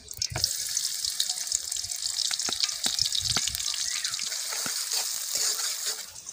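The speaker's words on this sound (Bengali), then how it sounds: "এবার আমরা আবার কড়াইয়ে তেল দিচ্ছি রুই মাছের জন্য। জিরা, আচ্ছা জিরা ফোড়ন দিতেছে আম্মু" Cumin seeds crackle and sizzle in hot oil in a wok, a bright frying hiss with scattered sharp pops and occasional stirring clinks, close by.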